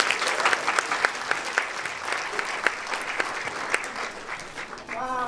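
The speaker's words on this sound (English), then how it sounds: "So if we can please have a warm round of applause to welcome Charmaine to the stage." Audience applause at a 2020 health science event welcoming speaker Charmaine Heket Murray to the stage, steady clapping with sharp individual claps throughout, fading at the end.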